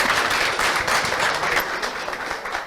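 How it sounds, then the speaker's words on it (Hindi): An audience bursts into sustained applause, dense clapping from many hands filling the room at a fairly loud, even level for several seconds. "तो सबसे बड़ा ताली बनता है इनके लिए या नहीं?"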